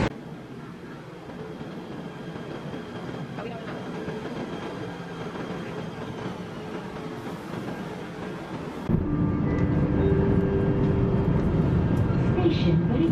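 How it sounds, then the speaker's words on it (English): A train pulls into a Kuala Lumpur rail station, a steady rumbling roar that swells suddenly louder near the end as it arrives close by, with voices in the background. "Oh, there's a train!"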